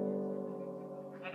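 A Minecraft sheep gives a single drawn-out, nasal bleat, clear and close, with no talking over it.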